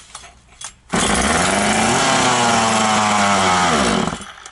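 An Oleo-Mac GS35C petrol chainsaw, freshly assembled, fires up after a couple of short pulls and runs loud and close for about three seconds, its pitch rising as it revs, then drops away.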